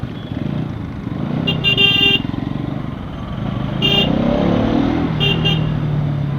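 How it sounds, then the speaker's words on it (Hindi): Heavy road traffic heard from a motorcycle on the road between Gurgaon and Alwar: a constant rush of engines and wind, with several short horn toots breaking through at intervals. "यहाँ पर ट्रैफिक बहुत ज़्यादा है"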